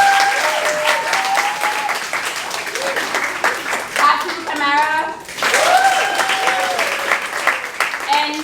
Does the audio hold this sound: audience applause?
yes